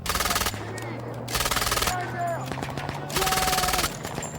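Rifles and a machine gun fire together during an army field exercise, with loud rapid bursts of automatic fire repeating in waves over a continuous crackle of shots, while shouted voices break through between bursts.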